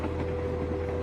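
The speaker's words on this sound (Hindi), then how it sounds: "पटरियों पर लोहे की घर घर आवाज गूंज रही थी।" A train slowly moving along iron rails, a steady low rumbling drone with a constant hum, heard as a continuous sustained sound effect for a horror story, no voices over it.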